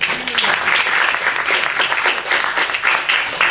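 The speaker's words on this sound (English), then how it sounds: "please give him an applause for that" An audience at a community town hall with an FCC commissioner claps in a full, continuous burst of applause, even and fairly close throughout.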